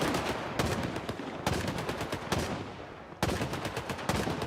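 Loud gunfire in STALKER 2 rattles in dense automatic bursts, separated by brief pauses, steady and close.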